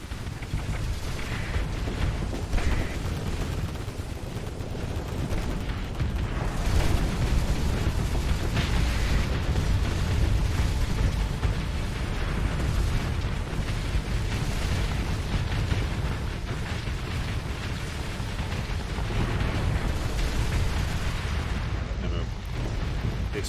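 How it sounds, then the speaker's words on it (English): A ship explodes in the Starsector space combat game, setting off a heavy, rumbling blast that rolls on as a dense, loud roar of booms and bursts across the whole stretch, with no voices present. "Explosion from that ship overloaded him."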